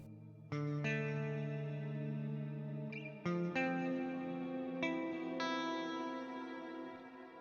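A Quad Cortex guitar processor's pitch effect is shifted down to a dissonant interval, sustained distorted chords ringing with chorus and echo. They are struck in several separate hits, loud and up close, with no voices.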